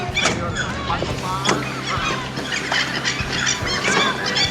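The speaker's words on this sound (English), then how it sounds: "A flock of seagulls." A flock of birds calls in a steady, overlapping chorus of harsh honking cries, loud and close, continuing for several seconds over a low background hum.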